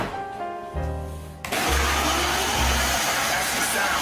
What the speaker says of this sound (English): Now we come over to the blender, maybe a little more ice.